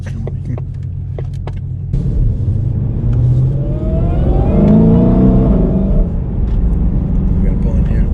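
A 2021 Shelby Mustang GT500 engine revs and pulls hard: low rumble from the cabin rises into a loud climbing engine tone as the car accelerates, then settles into a steady drone, with people talking over it.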